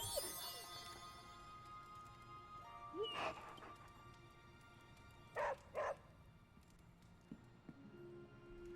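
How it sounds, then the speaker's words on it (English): A dog in Marvel's Midnight Suns gives a few quick, fairly close barks and yips in short clusters, set against soft background music. "I gotta pet the doggo."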